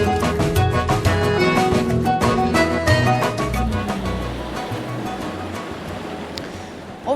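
Spring water gushing at Vrutok, the source of the Vardar river near Tetovo, a loud continuous rushing roar with faint tonal sounds over it that ease slightly toward the end.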